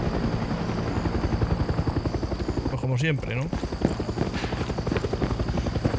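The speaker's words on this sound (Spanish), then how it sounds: "Helicóptero ya, en serio." Helicopter rotors chop steadily throughout a Far Cry 6 gameplay scene, loud and close, with someone briefly talking over it midway.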